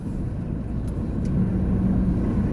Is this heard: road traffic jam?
yes